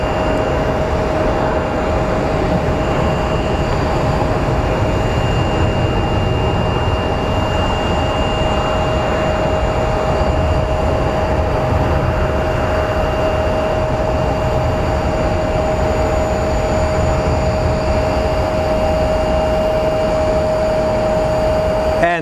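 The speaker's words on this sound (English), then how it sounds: "And there's our Mesa Airlines CRJ, probably headed to Houston, since it is a regional operator for United." Mesa Airlines CRJ regional jet at Phoenix Sky Harbor Airport, its engines giving a loud, continuous roar with a steady high whine throughout.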